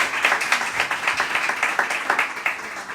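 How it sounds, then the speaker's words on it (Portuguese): A church congregation claps together at an evening worship service, a dense, steady wash of many hands with a rolling, slightly pulsing rhythm, loud and close, no speech over it. "Você pode aplaudir ao Senhor com o seu melhor?"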